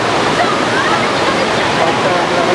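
Kempty Falls in Mussoorie roars as a steady, dense wash of falling water, unbroken and loud throughout.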